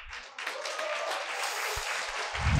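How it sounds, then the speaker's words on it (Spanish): Audience applause at a motivational talk, a fairly distant and soft wash of many hands clapping that swells slightly toward the end, with a few low thumps near the close. "¡Aplauso!"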